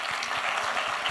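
Audience clapping at a radio show launch event, a steady dense patter of many hands, moderately loud and continuous over a short stretch.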